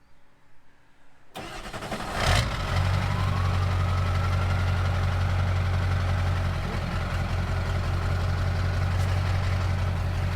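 A Jeep JL Wrangler engine cranks and catches after a couple of seconds of quiet, then settles into a steady, loud idle that holds for the rest of the clip with no talking.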